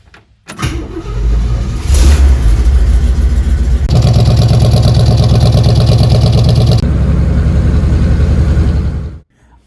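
A swapped-in V8 engine in a 1964 Chevrolet C20 truck cranks, catches and runs loud and close, holding a steady rumbling idle that rises for a few seconds before it shuts off.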